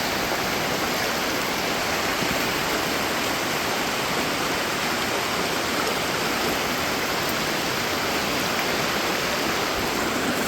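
A river flows steadily in rainy-season Costa Rica, a loud, continuous broadband rush of water with no breaks, close and enveloping for the whole stretch.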